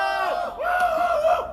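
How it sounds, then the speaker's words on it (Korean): Crowd at a candlelight rally in Seongju giving a rousing collective shout, a few sustained cheering voices rising together, close and loud, lasting about a second and a half. "오신 분들의 힘찬 함성으로 시작하도록 하겠습니다"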